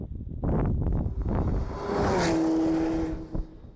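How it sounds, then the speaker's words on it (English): Volvo S60 Polestar speeding along a race track, a broad roar of tire and wind noise that swells in, holds loud and steady for a few seconds, then fades away. "A lot of tire noise and wind noise because the car is really fast"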